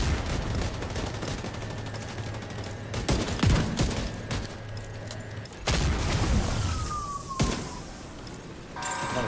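Gunfire and explosive booms from a video game raid against an armoured enemy, a dense fusillade of shots with heavy bangs and a rising whine, loud and continuous with brief quieter gaps, and no talking over it.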